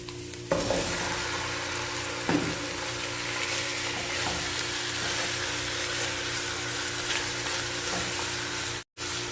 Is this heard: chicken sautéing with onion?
yes